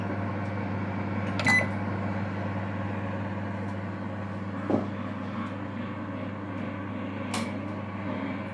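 A Daewoo KOC-9Q5T microwave oven runs while roasting sweet peppers, giving a steady, fairly loud hum broken by a few faint clicks and knocks.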